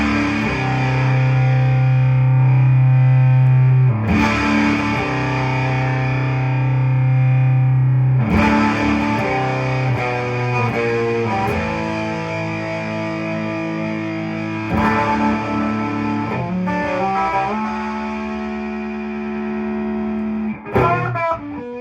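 An electric guitar runs through Big Muff and screamer distortion pedals blended in parallel with a Boss LS-2. It plays loud, thick, sustained chords and riffs continuously, changing every few seconds, with no talking.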